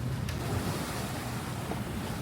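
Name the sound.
sailboat sailing at sea without engine, waves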